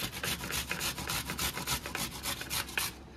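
A firm snake gourd scraped over a hand grater gives a steady run of quick, rough rasping strokes, close and fairly loud, with no talking.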